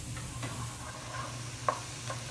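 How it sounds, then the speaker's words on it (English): Chopped vegetables for shrimp creole sizzle softly in a pan while being stirred, a steady low fry with occasional scraping clinks of the spoon, close and moderately quiet. "Once you get this all stirred together, just kind of keep it moving."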